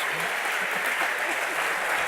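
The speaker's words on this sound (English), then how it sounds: "And how about a big cheer for Pastor Evan for coming up?" An audience at a magic show claps and cheers continuously, a dense, steady wash of applause that stays loud throughout with voices mixed into the crowd.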